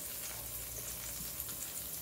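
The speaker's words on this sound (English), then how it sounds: "I'm just adding my butter. I'm just allowing it to sizzle" Butter sizzles in a pan for a soufflé omelette, a faint, steady crackling hiss with no break.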